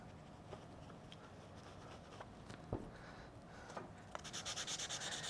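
Faint, close rubbing and scrubbing strokes as the inner front hinge pins of an RC car are cleaned, with occasional light taps and a quicker run of rhythmic strokes at the end.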